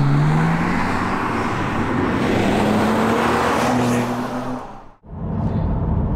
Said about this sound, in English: The exhaust actually sound decent, to be honest, even in the stock form